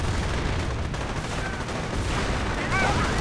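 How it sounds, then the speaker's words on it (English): Half-tracks and Rangers fire in a World War II strategy game battle against a Panzer IV, producing dense, continuous rattling gunfire and rumbling booms under steady background din while a commentator talks. "Half-tracks firing in. Rangers firing up, going in after the Panzer IV."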